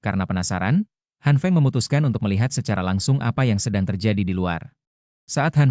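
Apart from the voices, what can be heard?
No everyday noise stands out behind the speech.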